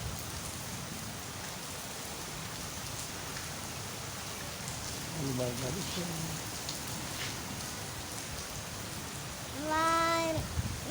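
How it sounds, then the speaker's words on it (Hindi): Steady rain falls in a constant hiss, with a voice speaking briefly in the middle and again near the end. "बारिश का मौसम आ गया है।"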